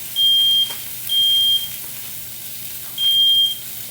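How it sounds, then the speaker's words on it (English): A smoke alarm sounds in loud, steady electronic beeps, three long tones separated by pauses, over a faint background hiss. "close this smoke alarm off"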